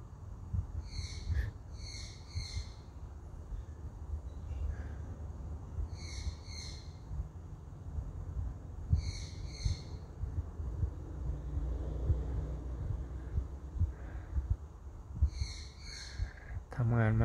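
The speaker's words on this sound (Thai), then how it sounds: "เขาทนเสียงไอ้นกบ้านี่ร้องไม่ไหว" A bird calls repeatedly outside in paired and tripled high whistling bursts spaced a few seconds apart, over a low background rumble with occasional faint voices.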